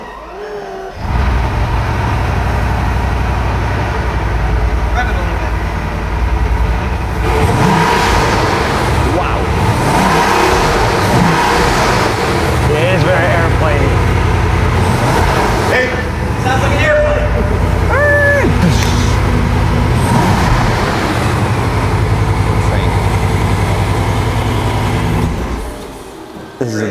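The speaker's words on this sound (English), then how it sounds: "Rev it a little bit." A sports car engine is started and revved at a watch dealers' trade show in Miami, giving a loud, continuous roar with rising and falling revs for nearly half a minute while people talk over it.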